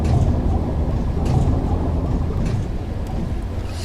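Engines of the Nauticrawl machine in a video game rumble as a steady, loud low drone with a deep hum throughout and slight swells, with no voices.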